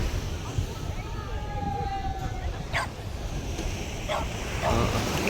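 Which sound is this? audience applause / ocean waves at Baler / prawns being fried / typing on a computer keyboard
ocean waves at Baler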